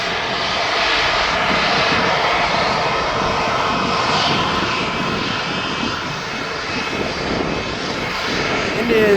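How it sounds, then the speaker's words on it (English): An Airbus A220-300 airliner roars steadily and loudly for the whole stretch, a broad continuous engine rush close by at an airport. "This is an A220-300. This is the smallest aircraft now"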